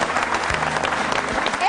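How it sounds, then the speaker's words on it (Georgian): Studio audience clapping in a Georgian television show, a short, loud and continuous burst of applause heard alone without talk. "ბრავო. ტაში."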